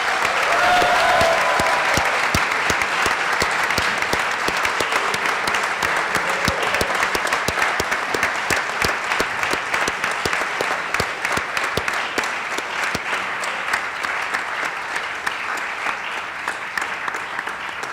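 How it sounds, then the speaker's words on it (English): A large crowd at a university graduation ceremony applauds the graduates in long, sustained clapping that holds steady and dense throughout, slowly thinning toward the end. "Let's give our December 2022 graduates another round of applause."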